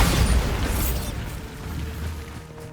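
A Bombarda spell explosion in Hogwarts Legacy gives a loud, deep booming blast at the start, then a long rumbling decay that trails off, with no voices.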